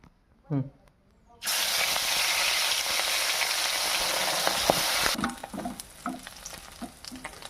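Small nola fish fry in hot oil, a loud, continuous sizzle that starts abruptly after a brief quiet moment and a few clinks, then drops to softer crackling and stirring near the end.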